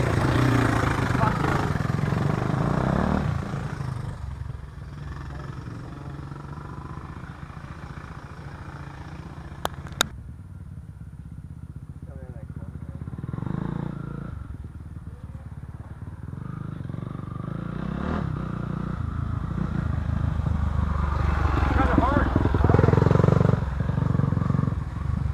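A motorcycle engine revs and rumbles continuously on a backyard dirt track, rising and falling with throttle, while people talk over it.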